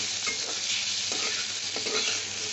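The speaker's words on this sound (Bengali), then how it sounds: "আমি একটু নেড়ে টেড়ে নেব" Turmeric stirred in a frying pan gives a close, steady sizzle with a few soft scraping strokes of the spoon, heard alone without voices.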